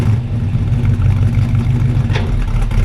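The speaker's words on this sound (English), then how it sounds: "he's going to fire it up and flip a U-ey here up in the parking lot" A 1972 Chevy C10 short bed with a 350 V8 and TH350 automatic runs with a loud, close, steady low rumble, idling and moving off without talk.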